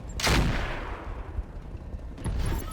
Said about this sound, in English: We're going to fire the Ultra AC-1 in X1 mode.